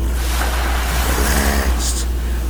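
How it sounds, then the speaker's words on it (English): Ocean tide rolling in, a soft steady wash of waves and surf with low rumbling, alone and unbroken across a short stretch. "as you listen to the tide coming in"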